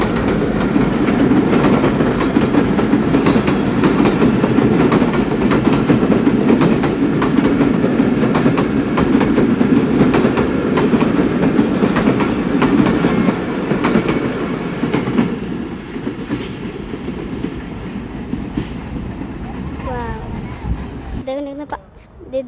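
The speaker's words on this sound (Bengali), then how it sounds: "এই দেখেন এখানে ট্রেন আসছে কতবার।" A train rumbles loudly through Pakshi railway station in Bangladesh, with a continuous heavy roll and clatter of wheels that fades toward the end. Voices can be heard over it.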